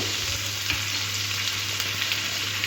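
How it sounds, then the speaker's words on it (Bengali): Whole cumin seeds sizzle in butter and white oil in a kadai for tempering, a steady bright crackling hiss with a low hum beneath and occasional small pops, continuous and close. "বাটারটা দেওয়ার পরে ফোড়নের জন্য দেবো গোটা জিরে"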